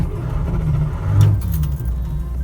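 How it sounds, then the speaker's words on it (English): A 1962 Chevy Corvair Monza 900 engine fires up and settles into a steady, loud low rumble, swelling briefly as it catches before idling evenly close by. "it fires up and runs good"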